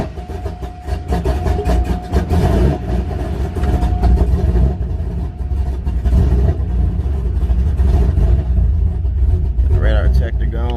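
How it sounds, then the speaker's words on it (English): A C6 Corvette with a swapped LS3 engine starts cold. A loud, rumbling engine idles close by with some revving. A voice talks briefly over it. "Let's go ahead and do a cold start"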